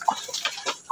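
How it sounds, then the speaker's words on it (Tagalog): A young Hulo Basilan and Rhode Island Red crossbreed chicken clucks close by, a few short quick clucks in an uneven rhythm with no talk. "yung manok na to guys is paparamihin natin to"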